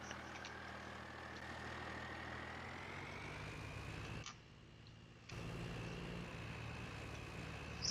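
A lifted truck in Farming Simulator 22 idles steadily with a low, constant engine drone and a faint high whine, dropping briefly to near silence for about a second midway before resuming.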